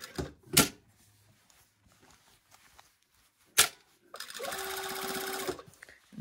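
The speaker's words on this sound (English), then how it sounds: "I'm gonna go ahead and top stitch all the way around" A home sewing machine topstitches around the waist of a pair of pants. A few sharp clicks and knocks are followed by a close, rapid, steady rattling run of stitching lasting over a second, with no talking.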